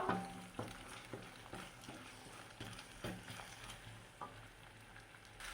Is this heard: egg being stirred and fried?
yes